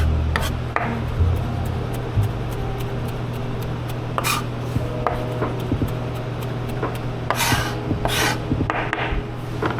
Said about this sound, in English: Just chopping up some parsley for garnish.